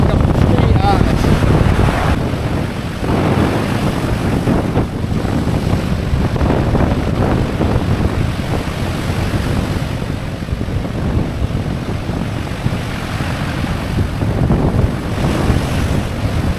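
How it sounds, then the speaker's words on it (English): A strong onshore wind at the sea in Cyprus buffets the microphone loudly and continuously, with turbulent roaring gusts throughout and surf blending into the noise. "I've got pretty much onshore wind coming straight at us."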